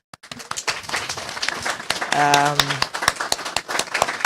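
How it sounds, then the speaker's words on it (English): Audience clapping at a presentation of a map tracing Afro-Curaçaoan heritage, a lively spatter of many hands that carries on throughout, with a voice speaking over it and a brief sustained tone midway. "I want to ask you a very, very, very, very heartfelt applause for Judith Stratman."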